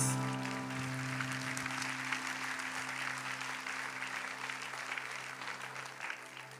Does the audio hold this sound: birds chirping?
no